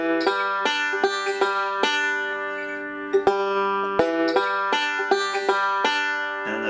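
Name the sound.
bluegrass banjo lick in G with forward roll and slide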